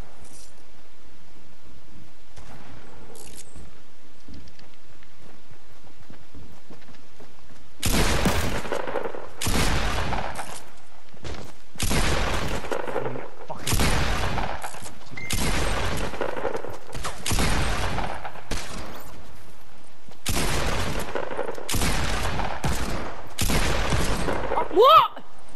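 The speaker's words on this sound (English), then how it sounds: "He shot me in the leg with a purple deagle and it killed me." Desert Eagle gunfire in Fortnite Battle Royale: after a quiet stretch, a series of loud, sharp single shots and short bursts at irregular intervals, close and punchy, with faint background game sounds.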